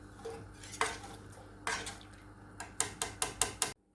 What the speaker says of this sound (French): Il faut bien gratter le fond.